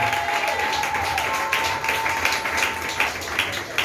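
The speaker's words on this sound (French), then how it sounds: "Acclamons encore Jésus." A church congregation applauds in acclamation of Jesus, a steady, dense wash of clapping that fills the room for a few seconds, with a faint voice or tone briefly audible beneath it.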